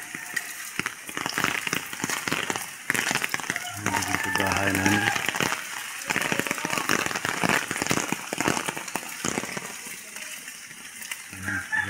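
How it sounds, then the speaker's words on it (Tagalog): Rain patters steadily after Typhoon Tino behind a rural house with damaged banana plants, gusts adding a rough hiss over the crackle, while someone talks through most of it. "May bumubugso pa rin hangin at ulan."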